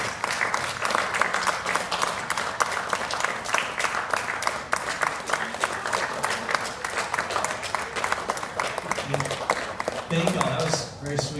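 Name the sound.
audience round of applause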